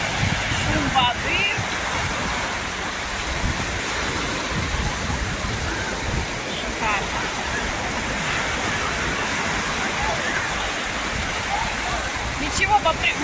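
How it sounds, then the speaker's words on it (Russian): Steady sea surf and water noise at a beach in Side, Turkey, a continuous broadband wash of waves heard up close, with a voice speaking briefly over it. "Шум воды."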